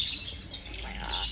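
A pet parrot gives a single sharp, close squawk, brief and loud with a shrill edge, standing alone indoors.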